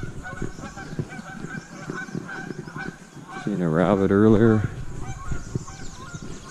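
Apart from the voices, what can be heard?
geese honking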